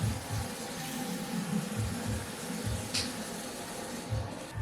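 Vegetables for a simple soup are rinsed and scrubbed by hand under running tap water. A steady faint stream hisses close by, with soft irregular splashes and rubbing.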